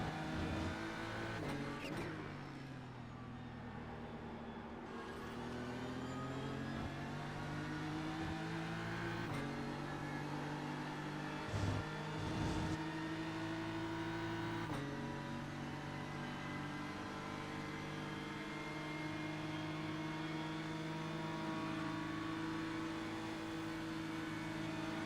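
Race car engines drone in Assetto Corsa Competizione during a production-car race at Spa on the Nordschleife, a steady loud engine hum with shifts in pitch as the car accelerates and changes gear.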